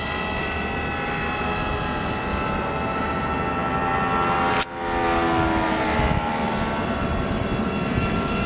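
A six-foot Dragon model airplane flies with a loud, steady engine drone throughout, dipping briefly for a moment midway before climbing back to full strength.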